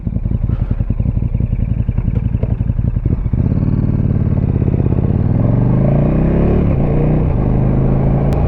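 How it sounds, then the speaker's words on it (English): A KTM 1290 motorcycle fitted with an Akrapovic slip-on exhaust rumbles loudly up close, with a choppy idle giving way to a steady revving engine drone and crisp crackles. "This exhaust is very, very nice. It even crackles to the point where it's just crisp."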